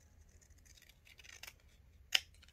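Scissors snip through paper around a die-cut shape during a papercraft session, giving one sharp, close cut near the end after a stretch of faint handling and rustling.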